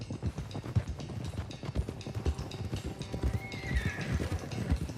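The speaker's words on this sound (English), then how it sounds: "let's get these horses to Clemens Cove quick before we run into any more trouble" Horses in the Red Dead Redemption 2 video game, rhythmic hooves clip-clopping at a steady pace with a neigh, heard moderately close and fairly quiet.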